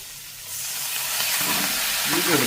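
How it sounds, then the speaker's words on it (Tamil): Beetroot goes into a pan of onions sautéing in a home kitchen, and a hissing sizzle swells quickly from quiet to a loud, steady crackle that persists to the end. "உள்ளி வதங்கிட்டு நாங்கள் இது பாருங்க பீட்ரூட்டை போடுவோம்."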